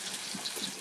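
Water runs from a Moen 1222 tub and shower faucet in a steady, moderately loud rushing hiss, close by and unbroken, with no talking.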